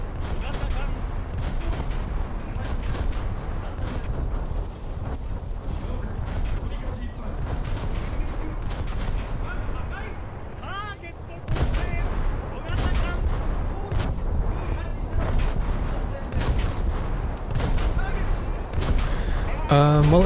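Boat guns in a naval video game fire at a Zippo, dense repeated heavy gunfire and booming blasts rolling continuously at close range, with mechanical clanks and a brief lull partway through.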